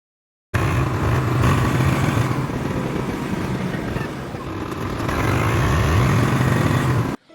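A tractor with a punctured tyre is driven along a village road, its engine roaring loud and steady throughout with slight rises in intensity, then cutting off abruptly.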